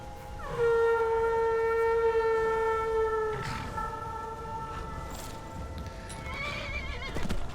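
A horse in Skyrim gives a loud, drawn-out neigh that sweeps and trails off over about three seconds, followed by quieter snorts and a short run of hoof clip-clops near the end, with no voices.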